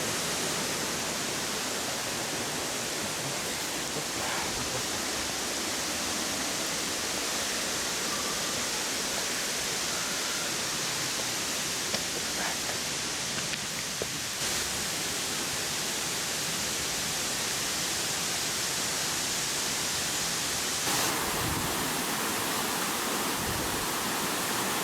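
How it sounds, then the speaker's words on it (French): A waterfall in the Chartreuse mountains roars as a constant, loud, broadband wash of falling water, unbroken throughout with no voices. "Voilà donc la première cascade."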